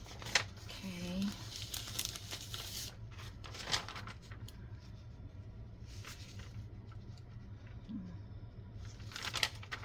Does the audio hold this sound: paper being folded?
yes